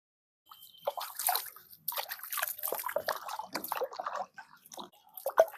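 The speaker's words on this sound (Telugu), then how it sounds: "రోలు కడుక్కుందామండి శుభ్రంగా" Water splashing and trickling while a stone mortar (rolu) is washed clean after making red chilli pickle, with irregular wet swishes, drips and dribbles up close, broken by short pauses.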